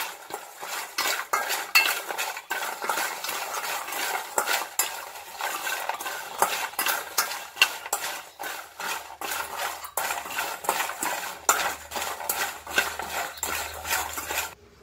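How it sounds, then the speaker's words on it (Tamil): A utensil rapidly stirs fried cashew nuts in a metal pan, producing close, busy rattling and scraping with a light sizzle underneath. "இப்போ எல்லாம் மிக்ஸ் ஆகிற மாதிரி நல்லா கலந்து விடுங்க நல்லா கலந்துக்கிட்டே இருக்கணும்"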